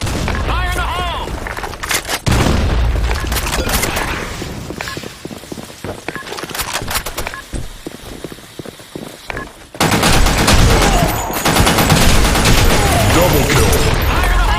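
Gunfire rattles in a video game firefight, with dense automatic bursts and a heavy grenade blast that sharply raises the din around the two-second mark and again near ten seconds. The shooting stays loud throughout, with voices mixed into the chaos.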